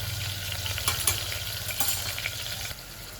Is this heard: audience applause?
no